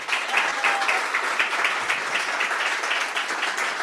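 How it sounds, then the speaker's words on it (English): Steady audience applause fills a room at an investment summit finale, dense clapping from a crowd sustained at an even level throughout. "give them a round of applause."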